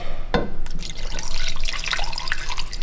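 Water splashes and trickles into a big pot or casserole for cooking Indonesian empal beef, a close, busy liquid rush with small drips and clinks, no talking.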